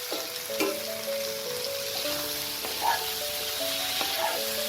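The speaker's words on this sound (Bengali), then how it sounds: "এবার আমি এতে ভেজে রাখা আলু আর এঁচোড়টা দিয়ে দেবো।" Fried potato and raw jackfruit go into a pan of well-cooked spice masala for a chana dal dish, setting off a steady, moderate sizzle of frying with faint stirring, while soft tonal music plays underneath.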